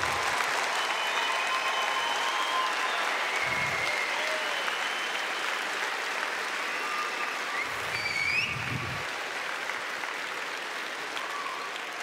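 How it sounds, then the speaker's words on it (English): An audience at a STARMUS4SCHOOLS science event in Bratislava applauds in a long, even wash of clapping that holds steady for many seconds, moderately distant and without speech. "Please, one more round of applause for Garrick"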